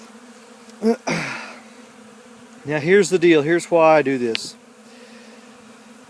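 Many bees from several hives swarm close around during a winter supplemental feeding, a steady insect drone sitting beneath brief bursts of someone talking.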